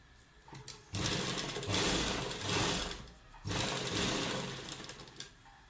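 A sewing machine runs stitches along the edge of a kurta neckline in several steady motor bursts separated by brief pauses, loud and close.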